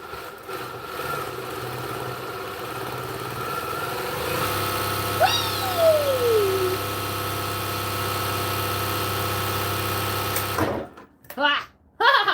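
A sewing machine stitching a possum pouch runs steadily at speed, a close continuous mechanical hum and whir with a brief higher whine midway, stopping near the end.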